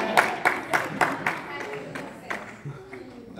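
Audience applause at a family night event: a short run of sharp, scattered claps rising in bursts then thinning out, with background room murmur underneath.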